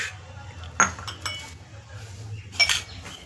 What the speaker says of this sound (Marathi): आता हे ढवळून घेऊयात मित्रांनो.